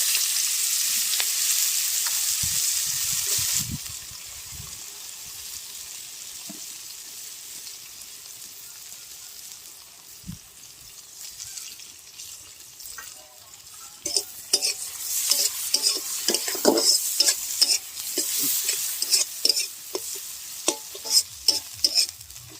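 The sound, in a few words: onions and spring onions frying in a pan for lentil spice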